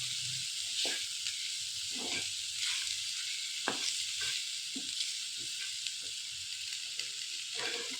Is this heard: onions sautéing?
yes